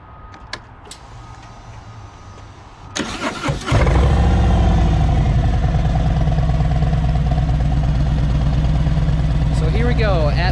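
A Harley-Davidson Milwaukee-Eight motorcycle fitted with Zombie Baffles cranks and fires up, then settles into a loud, deep, steady idle with a throbbing, lumpy exhaust rhythm heard up close.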